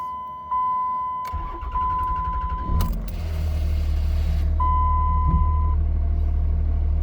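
A 2004 Dodge RAM 2500 with the 24-valve diesel cranks briefly and catches, settling into a loud, steady low diesel idle, with chiming warning dings before and after the start.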